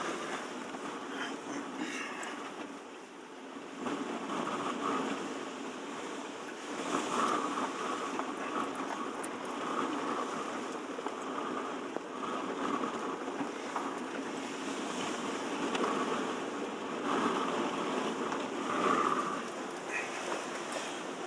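Wind rushes steadily in a Mojave Desert sandstorm, blowing sand in a constant broadband roar with gusting swells, heard close around a Lexus GX460 off-road vehicle.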